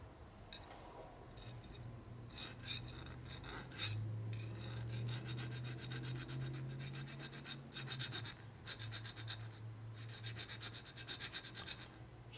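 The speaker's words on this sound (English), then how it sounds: "this way here as I'm filing on a little bit" A metal file rasps across a part from a Harley-Davidson shovelhead stroker big-bore engine, steady back-and-forth strokes close up, some passes in quick rhythmic bursts, with no talking.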